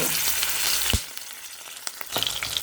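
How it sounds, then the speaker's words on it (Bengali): Fish sizzle loudly in hot mustard oil, a dense crackling hiss with a couple of sharp pops and spatters, close by and without any voices. "একে একে মাছগুলো ভাজার জন্য দিয়ে দেব"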